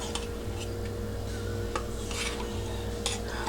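A utensil scrapes sweet cream into a frappe cup, a steady close rasping with a few sharper scratches and knocks, heard alone without talk.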